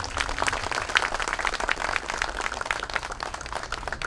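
Crowd applause at a memorial ceremony for the anniversary of Lee Han-yeol's death, steady dense clapping from a gathered audience lasting throughout, moderately loud and even.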